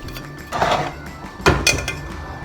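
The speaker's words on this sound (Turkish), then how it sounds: "Kalan tüm domatesli harcı ekliyoruz." Remaining tomato mixture tipped into a pot of olive-oil green beans, with two distinct metallic clinks and scrapes of a utensil against the pot over quiet kitchen background.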